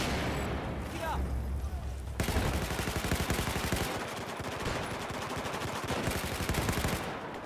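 Automatic gunfire in Battlefield 4 multiplayer on PS4, loud sustained rapid bursts of close machine-gun fire with short gaps, over a steady battlefield din.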